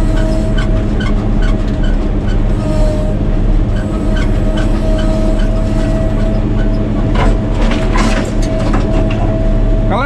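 A Caterpillar 120K motor grader works on a steep, winding slope, its heavy diesel engine droning steadily and loudly throughout with a constant low rumble and faint mechanical clatter, no talk.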